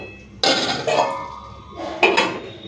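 Metal clatters against a pan of egg curry a few times, sharp clanks as a lid is set down and shifted, then settles.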